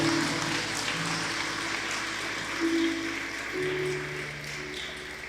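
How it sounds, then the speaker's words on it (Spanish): Moderate applause from a church congregation during a Spanish-language service, a fairly soft, even patter of clapping with faint tonal sounds and brief taps mixed in underneath. "dale un aplauso al Señor."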